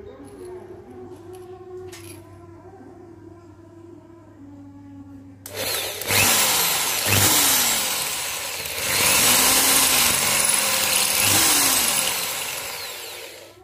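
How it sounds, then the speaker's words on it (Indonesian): A loud power drill whirs into a wall, starting abruptly after a quieter stretch, its pitch rising and falling as the bit bites in repeatedly. "Nah, luka seperti itu kemudian kita bor."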